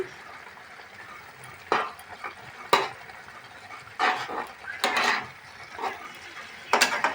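Maggi noodles are flipped and cooked in a pan, giving a faint background sizzle broken by several brief scrapes and clinks of a utensil against the pan, with no talking.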